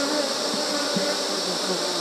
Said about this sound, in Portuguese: esse aqui é um enxame pequeno